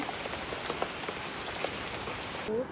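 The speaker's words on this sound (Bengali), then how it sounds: "একটু পরপর শুধু বৃষ্টি আর বৃষ্টি" Rain falls steadily on a surface, giving a constant close patter with scattered individual drops and no voices.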